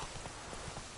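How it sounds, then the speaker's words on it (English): Horse hooves clopping in the Witcher 3: Wild Hunt video game, a few soft repeated hoofbeats over a steady dense background for about a second. "We'll take the horse round to wherever it is Vesemir is."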